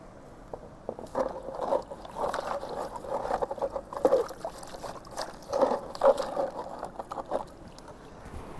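River water sloshes and splashes in a gold pan as material is rinsed off. The washing comes in irregular close bursts over a quiet background, with no talk.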